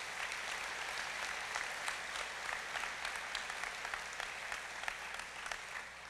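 A large audience at the 2018 Choctaw Nation State of the Nation address applauds, with sustained crisp clapping over several seconds at a fairly quiet, even level and some sharper individual claps standing out.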